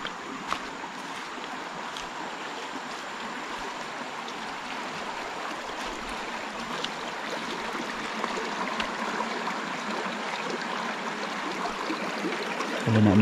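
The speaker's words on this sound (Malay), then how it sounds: "Ada sungai." River water streaming steadily past a forest campsite in the cool Cameron Highlands, a continuous broadband rush at even level throughout with no talk.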